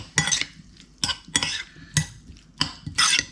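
A spoon scrapes and clinks against a bowl while a simple sauce is mixed, about six short bursts of stirring in an uneven rhythm, close and clear with no speech.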